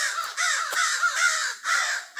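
A crow caws repeatedly from overhead, in loud, harsh calls that come in several bursts with short gaps between them and no voices.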